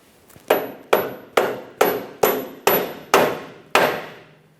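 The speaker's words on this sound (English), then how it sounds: "you may need to tap it up into the proper position using a rubber mallet" Eight sharp, evenly spaced blows from a rubber mallet ring out as a ball joint stud is tapped up into the steering knuckle of a 2007-2017 Jeep Patriot, each strike close and loud with a short decaying ring.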